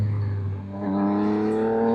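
A 2024 Yamaha XSR900 motorcycle with a flashed ECU accelerates in first gear, its engine note dipping briefly and then climbing steadily in pitch, loud and close.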